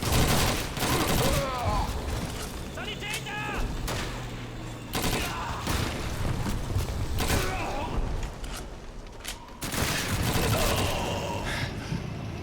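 Dense gunfire in the World War II shooter Call of Duty 2, with rapid volleys and machine-gun bursts running nearly nonstop in a loud, chaotic battle mix alongside faint voices.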